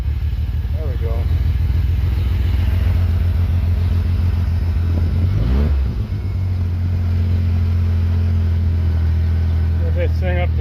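A Chrysler engine runs up close after cooling system and ignition repair work, holding a steady low idle with a brief rev midway. Voices talk over it.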